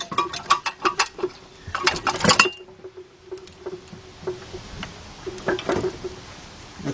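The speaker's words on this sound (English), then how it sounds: "Let's jack this up a little bit." Mechanical clinks and ratcheting clicks from a jack being pumped under a 2006 Kia Sportage EX 2.7 in a garage, irregular metallic taps in short bursts, close and moderately loud, no voices.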